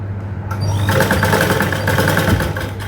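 A sewing machine stitches a princess-cut garment in one steady, close, fast whirring run.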